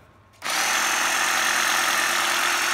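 An 18V cordless drill running in hammer mode starts suddenly after a brief quiet and holds a loud, steady, rattling whir close by without letup.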